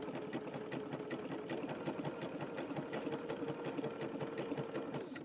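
Close, steady rapid whirring of a sewing machine stitching cord onto fabric for a rope-and-fabric teacup and saucer, running continuously without pause and with no talk.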